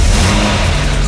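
A car engine catches and revs up loudly right at hand, a dense, brief roar with a broad steady hum and no voices.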